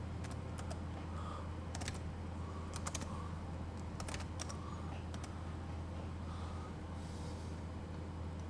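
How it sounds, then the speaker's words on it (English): Quiet computer keyboard typing in scattered short bursts of soft clicks, separated by pauses, over a low constant hum with faint background noise. "I'm just typing."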